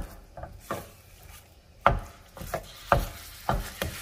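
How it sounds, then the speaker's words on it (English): Sharp scraping taps of a spatula against a pan, breaking apart ground beef, irregular and close, several distinct strikes with quiet gaps between them. "And now I'm just going to break this apart."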